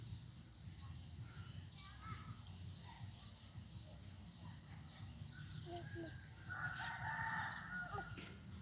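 Chickens cluck in the background while a rooster crows nearby, with a steady low hum and faint voices underneath.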